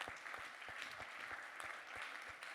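Fairly faint audience applause at a French live show, a steady patter of clapping with a few sharper claps standing out, running throughout with no voices.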